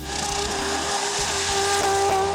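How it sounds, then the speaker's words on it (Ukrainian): Lamborghini Gallardo doing a burnout, a steady loud roar of engine with tire squeal sustained throughout, close and continuous without talk. "Палимо гуму на Lamborghini Gallardo Валентіно Бальбоні."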